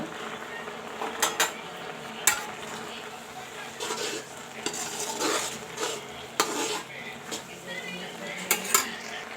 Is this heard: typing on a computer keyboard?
no